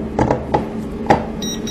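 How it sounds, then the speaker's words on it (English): Cover of a mini 3D sublimation vacuum heat press being closed: a few short, close knocks and clunks spaced irregularly, then a faint high electronic tone near the end. "Close the cover of the heating pad."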